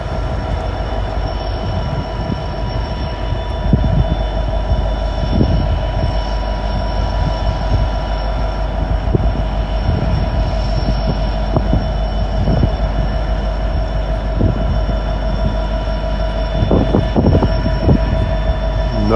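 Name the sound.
freight train moving and pulling away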